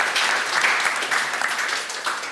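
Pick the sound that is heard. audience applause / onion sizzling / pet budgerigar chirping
audience applause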